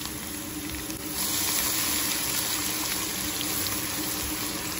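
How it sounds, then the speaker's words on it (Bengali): Chopped fresh garlic dropped into hot oil in a pan while cooking hilsa fish curry, giving a sudden loud, steady broadband sizzle that swells after the first second and holds close and continuous with no talking. "এই যে তেল গরম হয়ে এসেছে, প্রথমে আমি রসুন দিয়ে দিছি, ফ্রেশ রসুন কুচি করা"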